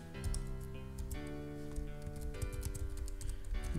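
Fast, steady clicking of typing on a computer keyboard, close and quiet, over a soft background hum.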